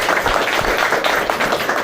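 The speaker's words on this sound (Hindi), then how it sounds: "इस बात के लिए एक बार जोरदार तालियां अपने लिए लगा सकते हैं" Loud, dense applause from a large seminar audience, many hands clapping at once in a continuous roar.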